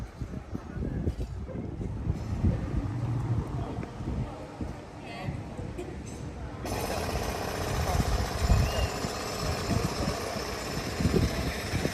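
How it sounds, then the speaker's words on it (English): A pneumatic drill digs into a street in a small Kent town, a steady, loud rattling hammer that runs throughout with engine and traffic noise around it. "Everywhere I go these days there seems to be somebody digging a hole or using a pneumatic drill very loudly."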